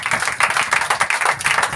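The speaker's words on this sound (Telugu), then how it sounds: "గట్టిగా చప్పట్లు కొడదామండి ఒకసారి అందరూ కూడా" An audience at a church fasting prayer night claps together in dense, rhythmic applause, loud and close, with no speech over it.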